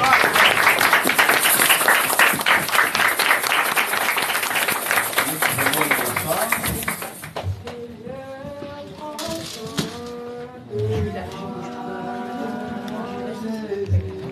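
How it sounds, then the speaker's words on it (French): A congregation at a Sunday church service applauds loudly and steadily for about seven seconds, then the clapping gives way to voices singing. "Acclamons pour la gloire du Seigneur."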